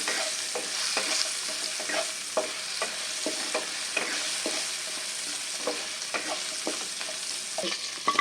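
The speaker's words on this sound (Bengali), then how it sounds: "আলুটা আমি ভেজে নেব" Potatoes fry in a pan with oil, a gentle continuous sizzle broken by repeated scraping knocks of stirring at an uneven rhythm, close by and with no talking.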